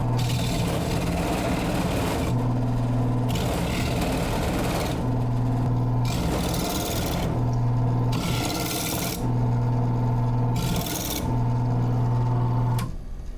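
A hand scraper scrapes out the inside of a coconut shell in a run of rhythmic, loud rasping strokes, each lasting about a second with short gaps, over a steady low mechanical hum.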